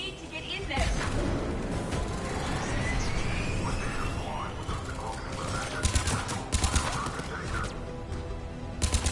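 Video game gunfire at a military checkpoint: rapid bursts of shots crackle through a dense battle mix, sharpening into louder volleys near the end, with voices talking over the fighting.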